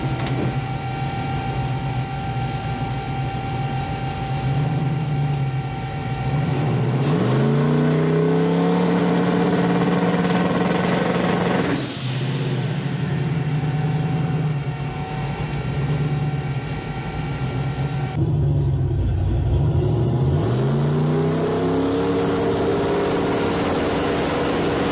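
A boosted car engine running Holley EFI revs loudly and repeatedly, climbing and dropping in pitch through several sharp pulls with a steady heavy drone between them, close and alone without talk.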